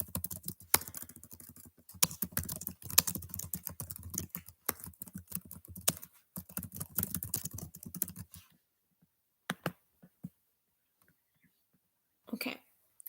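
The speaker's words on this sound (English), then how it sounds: "I'm going to type something here" Rapid, steady clatter of keys on a computer keyboard, close and fairly quiet, running for about eight seconds before a few scattered taps trail off into silence.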